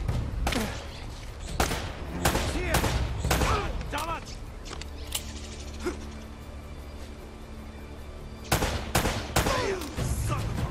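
Video game gunfire in Uncharted: Drake's Fortune, a flooded-city waterworks level: bursts of sharp shots and clattering mechanical impacts in a dense, loud first half, a quieter stretch, then more shots near the end.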